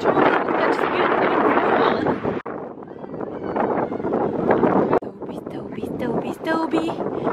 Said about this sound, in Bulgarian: Духа, така че може би не се чува